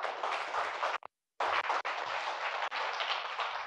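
Audience of about forty people clapping for themselves at a creativity presentation, a dense burst of hand claps that briefly stops, then resumes steadily and fairly close.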